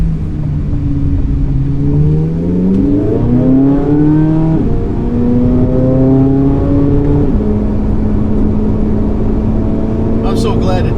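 A Chevrolet Corvette Z06 engine pulls hard while driving, loud and close, rising in pitch through several gear changes with a sustained roar and a brief crackle at the end, with a voice faintly underneath.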